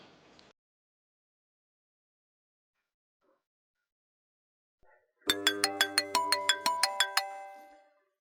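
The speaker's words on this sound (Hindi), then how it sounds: "फोन बार बार बज रहा है।" A phone ringtone plays a bright, repeating melodic pattern of rapid tones, loud and close, after a brief quiet stretch.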